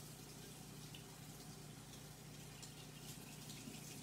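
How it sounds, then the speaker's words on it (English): Tap water runs steadily into a sink while a marbled baseball cap is rinsed off, a constant, low gushing wash with no voices. "I'm just washing the excess medium off the hat, just rinsing it real quick"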